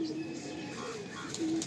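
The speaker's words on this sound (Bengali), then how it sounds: "আন্ধ্রা ক্রস ফুলসিরা পায়রা আছে" An Andhra cross phulsira pigeon coos softly at a pigeon sale in Kolkata, with a few short, low coos against a quiet background murmur.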